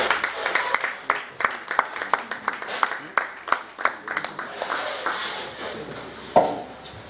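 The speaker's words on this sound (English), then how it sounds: "A round of applause for TLS." Guests at a club anniversary luncheon applaud, a moderate crowd clapping in a roughly rhythmic pattern of distinct claps that thins out toward the end, with a sharp knock near the close and faint voices underneath.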